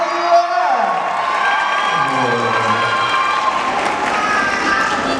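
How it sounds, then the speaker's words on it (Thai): Cheering and clapping from an audience at a Thai stage event launching a new collagen product with actress Aum Patcharapa, with whoops and shouts rising over a steady wash of applause, loud and sustained across the whole span. "ขอเสียงปรบมือเล็กนิดนึงนะครับ"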